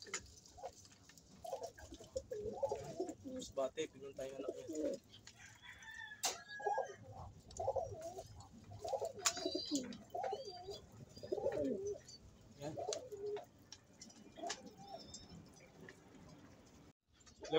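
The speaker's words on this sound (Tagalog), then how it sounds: "silipin natin yung ating binabantayan na ibon, si Miracle." A pet pigeon or dove coos in soft repeated low phrases, close and steady over a long stretch, with a rooster crowing faintly somewhere in the background.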